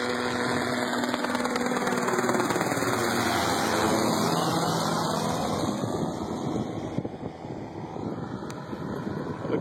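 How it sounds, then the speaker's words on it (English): A helicopter flies over cornfields in a loud, sustained engine and rotor roar, heard from a moving bicycle with gusty wind noise across the microphone as it passes. "look at the helicopter coming through"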